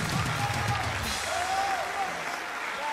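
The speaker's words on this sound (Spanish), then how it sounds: "¡Un aplauso!" Steady applause from an audience at a comedy show as a winner is announced fills the clip, with a voice calling out briefly near the start over the clapping.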